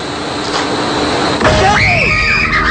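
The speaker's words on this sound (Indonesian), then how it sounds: "Kontan saja perempuan ini berteriak ketakutan atas ulah jahil tersebut." A woman screams in fright at a horror-themed roadside prank: a sudden, loud, high wavering cry that rises and falls, breaking in after a steady hum of traffic or air conditioning.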